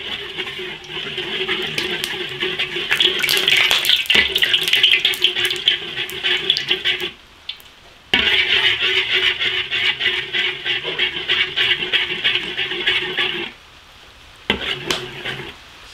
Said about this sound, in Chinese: 不停地搅拌